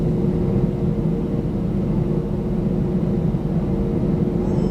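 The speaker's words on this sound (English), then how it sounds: "There it goes, airborne," Kuwait Airways airliner taking off from a Dubai runway, its engine roar a steady, heavy low rumble heard from a distance through the whole stretch, with no talk.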